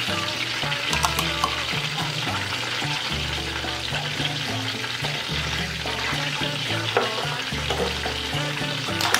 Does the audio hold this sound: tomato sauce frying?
yes